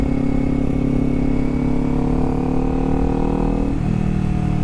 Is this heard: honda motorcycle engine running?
yes